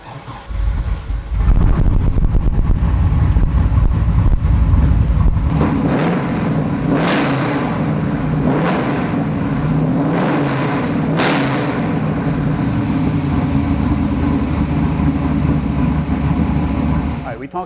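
A modified 427 car engine starts and runs loud and near, a heavy rumble broken by several sharp revs that rise and fall before it settles back to a throbbing idle.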